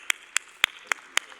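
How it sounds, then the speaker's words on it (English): A small forum audience claps in a slow, spaced rhythm, about six distinct sharp claps ringing out one after another, close and clear with no talk over them. "Please join me in giving him a round of applause"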